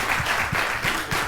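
Audience applauding teams at a quiz show, a dense, steady patter of clapping with soft rhythmic pulses.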